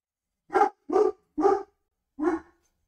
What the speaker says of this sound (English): He barks like a madman every time someone comes home next door.